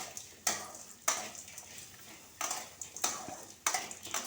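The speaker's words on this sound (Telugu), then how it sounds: "ఈ ఉల్లిపాయలు, వెల్లుల్లి ఇవన్నీ ఇప్పుడు కొంచెంసేపు వేగాలి బాగాను" Onions and garlic frying in a pan, a soft steady sizzle broken by several sharp scraping stirs of a spatula against the metal, with no voices.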